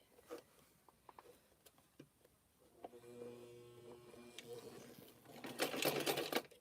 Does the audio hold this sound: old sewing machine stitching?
yes